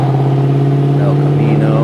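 Chevrolet Camaro ZL1 at a car cruise, its engine holding a loud, steady, close rumble with a strong low drone and a slight rise in pitch toward the end.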